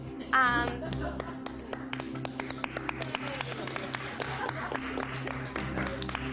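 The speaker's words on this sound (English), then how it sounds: "We're applauding that you are on the block again" Big Brother housemates clap in a small group, scattered uneven handclaps close by in a room, with a brief voice near the start and light chatter underneath.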